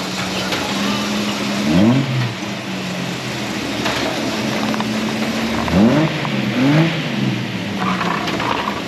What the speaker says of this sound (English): He likes to rev his car a lot.